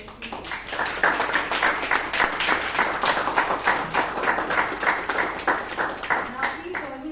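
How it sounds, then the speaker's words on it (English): Audience at a Toastmasters club meeting in Bangalore gives a round of applause, brisk rhythmic clapping that swells quickly and holds steady, with a voice briefly audible underneath. "Let us all give him a huge round of applause"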